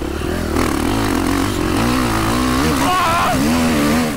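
A KTM 540 SXS motorcycle engine revs loud and close under throttle, its pitch climbing and falling in rapid sweeps with a steady rasping drone underneath.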